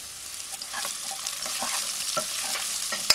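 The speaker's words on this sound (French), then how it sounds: "je vais mettre une casserole à chauffer sur laquelle je vais mettre de l'huile d'olive. Ensuite, je vais faire suer les oignons." Onions sweat in hot olive oil in a saucepan, giving a steady soft sizzle with light stirring scrapes throughout, close and without talk.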